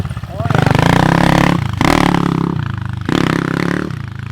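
A pit bike's small engine runs loud and close, its raspy tone rising and dropping with throttle blips in roughly three surges, while people talk over it.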